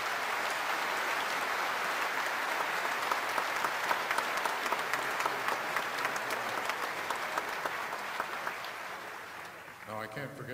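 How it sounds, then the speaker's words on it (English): A concert audience gives sustained, even applause for choir groups, including barbershop and Sweet Adelines ensembles, the dense clapping holding steady for about ten seconds before thinning out near the end. "they deserve one more big round of applause"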